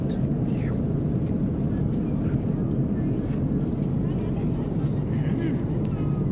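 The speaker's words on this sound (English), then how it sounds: "airplanes are loud because the engines are always rumbling" Steady, dense low engine rumble and cabin roar fill an airliner interior, constant and loud throughout with no pauses.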